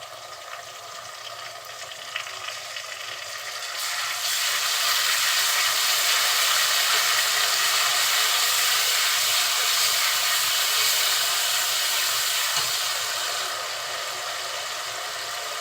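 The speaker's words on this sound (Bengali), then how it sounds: "এখন তেলের সাথে মশলাটা খুব সুন্দরভাবে কষিয়ে নিতে হবে" Packet spice masala fries hard in hot oil for chicken curry, a loud, steady, close sizzling hiss that swells sharply after a few seconds and holds, with no talking.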